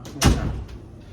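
A door thuds shut once at close range, a short heavy knock followed by a fading rattle in a quiet workplace room.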